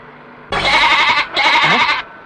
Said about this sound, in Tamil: என்னடா ஆடு கத்துற சத்தம் கேக்குது?